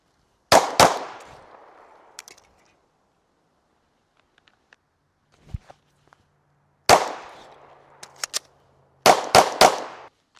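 Handgun shots at a shooting range, fired as a carry gun is tested: sharp, loud reports in small bursts of two or three, with long quiet gaps and faint handling noises between volleys.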